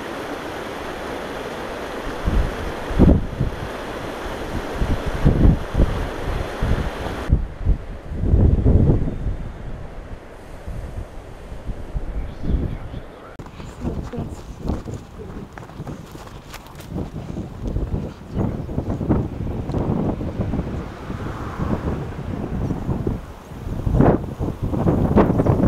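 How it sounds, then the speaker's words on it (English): Strong, gusty wind buffets the microphone outdoors beside a trout stream on a cold early-season day, roaring in bursts with the rush of flowing water beneath and no talking. "It's really windy."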